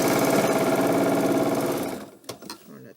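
A sewing machine stitches quilt pieces in a fast, steady whirring run for about two seconds, then stops, leaving a few quiet clicks and handling sounds.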